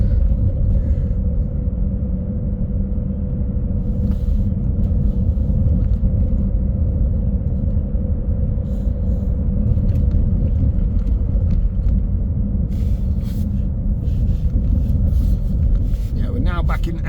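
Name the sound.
riding on a bus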